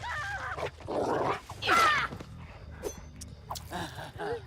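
The Houndmaster's dog in the video game Dead by Daylight, several sharp bursts of barking, yipping and whimpering, close and fairly loud, set over a low steady game background hum.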